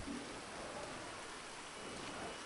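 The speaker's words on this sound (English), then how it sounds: "It's raining." Steady rain falls in a GTA Online game world, a continuous even hiss of drops with faint rumbles suggesting distant thunder, with no talking over it.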